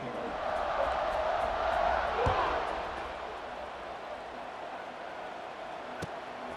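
Football stadium crowd at a Clemson–Miami game roaring as a kickoff approaches, a broad steady distant wash of cheering that swells and then eases, with a commentator's voice under it.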